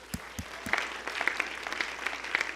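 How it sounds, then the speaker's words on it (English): Applause from a church audience welcoming missionaries at an evening prayer vigil, a few close, sharp claps at the start swelling into a steady wash of clapping from the crowd, moderately loud and sustained. "Let's give them a round of applause."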